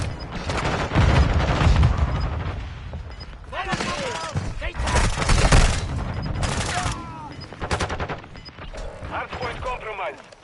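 Frag grenade blast mixed with bursts of gunfire in Modern Warfare 2, a busy, loud battle scene with repeated shots and booms under game voice callouts and effects.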